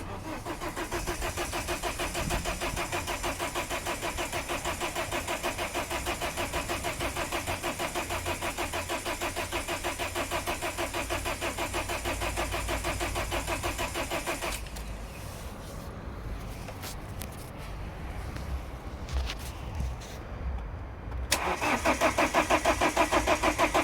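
Diesel engine turning over on the starter motor, warm enough to need no glow plugs: a steady, loud rhythmic cranking churn runs continuously for about fifteen seconds, falls into a rougher, quieter stretch, then cranking swells loud again near the end.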